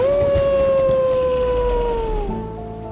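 A creature's howl echoes nearby in the Elden Ring video game, one loud, long, wavering tonal cry that slowly falls in pitch and fades with reverberation over about three seconds.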